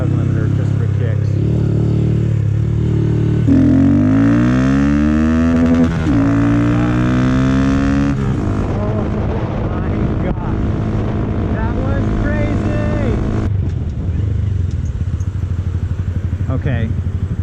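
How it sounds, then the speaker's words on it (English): A Honda Grom motorcycle with a DHM cam and ECU mods revs hard through a first-gear pull up to the rev limiter. The engine note climbs steadily, loud and close, then bounces at the limiter and drops back. "So I'm just going to do a quick first gear pull to rev limiter just for kicks."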